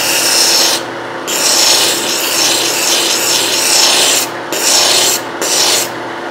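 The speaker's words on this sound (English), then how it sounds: "Now I've taken my sanding block and tried to level off each side of my yo-yo." A wooden yo-yo is sanded by hand with a sanding block, giving loud, raspy rubbing strokes in long sustained passes separated by brief pauses, close up and with no talking.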